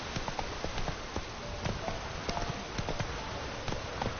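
Horse hooves gallop steadily in The Witcher 3: Wild Hunt, a rapid continuous clip-clop of the mount running at speed over a constant rushing background.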